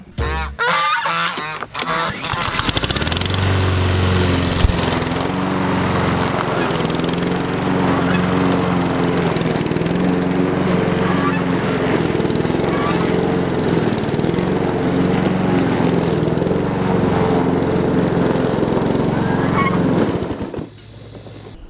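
A lawn mower cuts overgrown garden grass, its engine droning loud and steady for about twenty seconds after a brief start, then cutting off at the end; geese honk faintly in the background.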